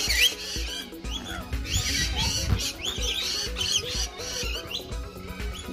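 A wild Australian lorikeet or parrot squawks loudly and close by in a rapid run of harsh, rasping calls mixed with higher chirps, with no talking over it.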